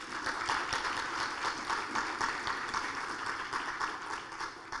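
Audience applause at a finance ministry address, a steady wash of clapping from a crowd, moderately soft and continuous for a few seconds.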